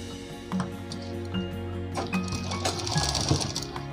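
A sewing machine hums steadily, close up, with clicking ticks as it stitches a patti strip for a blouse neck design; no talking.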